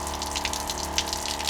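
Water pumped from a container by an electric wand pump powered through a 120V AC inverter in a hybrid Sienna minivan, a steady close-up gushing stream with a constant low pump hum underneath.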